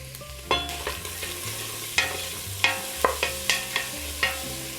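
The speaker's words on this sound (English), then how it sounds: "So I'm going to add my diced onion and give this a stir." Diced onion and sausage sauté in a soup pot for Polish cabbage and sausage soup, with a steady sizzle broken by repeated sharp scrapes and clacks of a spoon stirring against the pot.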